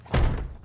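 A door is kicked open in the tactical shooter Ready or Not during a hostage rescue at a gas station, one heavy close thud with a short booming decay.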